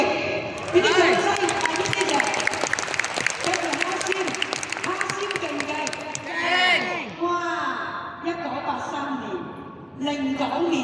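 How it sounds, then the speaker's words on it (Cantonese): Audience applause at an event in Hong Kong: steady, sustained clapping running beneath a loud amplified voice speaking over it. "俾啲掌聲！"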